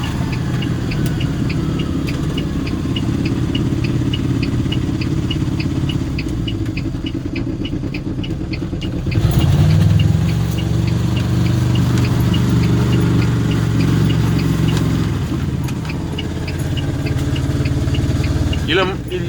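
A loud moped engine runs continuously at close range, its steady drone rising slightly partway through, with voices talking over it.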